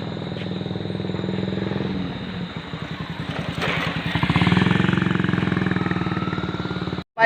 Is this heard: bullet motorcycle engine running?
yes